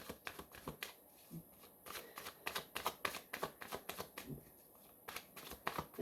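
An old Rider-Waite tarot deck, some thirty years in use, shuffled by hand in steady bursts of crisp riffling card slaps, close and quiet, with no talk.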